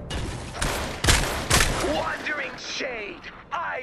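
Rapid bursts of gunfire in the Fortnite video game, several volleys spread through the moment, with a voice talking over the shooting.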